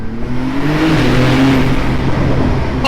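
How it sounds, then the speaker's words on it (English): Porsche 992 Turbo S engine running loud and close in Sport mode, a steady throaty drone with rising and falling pitch and a faint airy fluttering from the turbos, no voices over it. "You can hear the turbo flutter."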